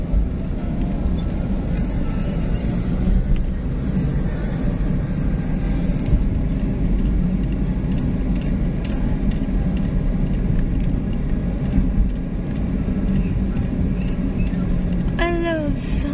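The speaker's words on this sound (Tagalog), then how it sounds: "Traffic." Continuous road traffic in Bacolor, Pampanga, a dense rumble of passing vehicles heard steadily throughout, with a short horn-like tone near the end.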